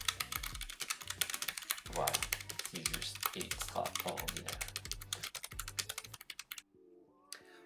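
Fast, continuous clacking keystrokes on a Keychron K3 Low Profile keyboard, close and crisp, with someone talking over the typing before it stops abruptly.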